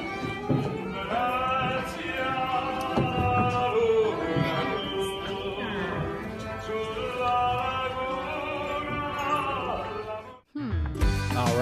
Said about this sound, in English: That is a gondolier singing.